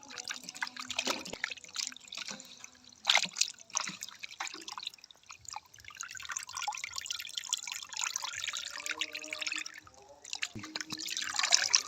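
Chicken meat is washed in a bowl of water, producing close drips, trickles and sloshing splashes in irregular bursts over about twelve seconds, quiet but clear.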